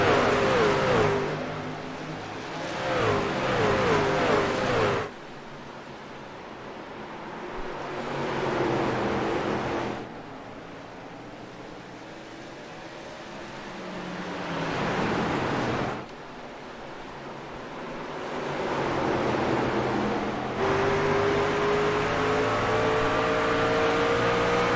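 Racing truck engines on a tight short track, a steady broadband roar from several trucks that swells and drops in waves as they brake and power through the corners, with a tonal whine rising near the end.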